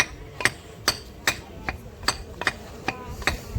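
Spices being ground into a paste by hand, giving a steady series of sharp, evenly spaced knocks roughly every half second, close by and moderately loud, with no voices.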